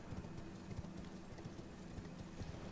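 Horse galloping in the video game Elden Ring, a steady rapid clip-clop of hooves running continuously close up over a dense background rumble, with no talking.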